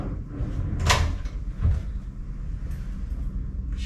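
Hotel room drawers slide open and shut, giving two distinct wooden thumps and rumbles close by against quiet room tone, with no talking.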